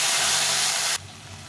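A ground paste of ginger, cumin and chilli fries with potatoes in a pan, giving a loud, hissing sizzle that stops abruptly after about a second and leaves only faint background.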